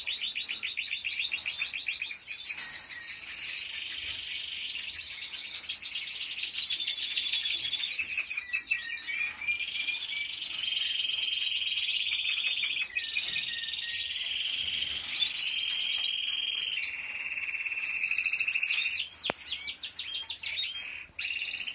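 Small birds at feeders chirp and twitter continuously in bright, rapid overlapping trills and tweets, close and fairly loud, with no talking.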